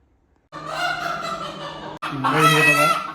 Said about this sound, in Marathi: हे बघा पण मोठे मोठे कोंबडे आहेत